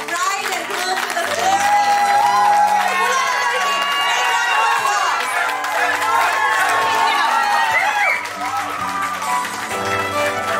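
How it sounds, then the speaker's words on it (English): Wedding guests cheer and clap loudly as the bride and groom are welcomed, with a busy crowd roar, excited shouts and music-like tones mixed in throughout. "with a big, big, thunderous round of applause, let's welcome the bride and groom"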